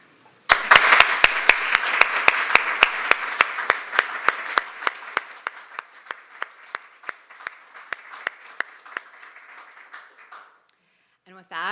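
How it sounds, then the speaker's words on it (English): Audience applause at an organization's annual meeting: a dense burst of clapping that starts abruptly, stays loud, then thins out to scattered individual claps before falling silent. "Please join me in applauding the JMM staff who have worked with such dedication, creativity, and care this year."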